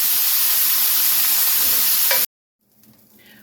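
Beef sears in a hot pan with a loud, steady sizzle and occasional stirring scrapes, then the sound cuts off abruptly, leaving a quiet, low background.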